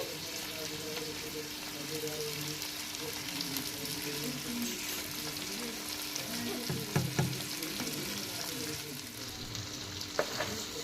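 Oil sizzles and crackles softly in a pan as ingredients fry for a fish curry, a continuous low frying hiss with occasional louder pops and stirring clatter.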